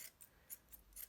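Scissors trim the shaggy yarn of a pom pom being shaped into a small dog, giving a few quiet, crisp snips spaced at an uneven rhythm with no talk.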